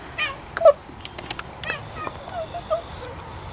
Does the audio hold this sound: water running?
no